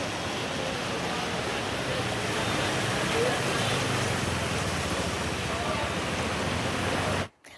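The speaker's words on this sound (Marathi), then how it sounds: "मुंबई, कल्याण, डोंबिवली, पालघरमध्ये सध्या जोरदार पाऊस होतोय." Heavy monsoon rain pours steadily across Mumbai and its suburbs, a dense, continuous hiss of downpour held at an even level for about seven seconds before cutting off abruptly.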